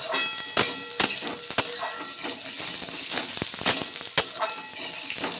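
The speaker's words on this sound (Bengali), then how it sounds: "তেলের মধ্যে বেগুন দিয়ে দিলাম নাড়াচাড়া করে বেশ সুন্দর করে বেগুনগুলোকে ভেজে তুলে নেবো" Eggplant pieces frying in hot oil in a home kitchen, a steady sizzle broken by sharp clinks and scrapes as the pieces are stirred, loud and close with no voices.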